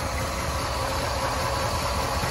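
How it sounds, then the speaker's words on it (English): A 1961 Chevrolet Impala convertible engine with a Brawler carburetor idles smoothly and steadily up close, a continuous low rumble with no revving. "Motor idles pretty smooth."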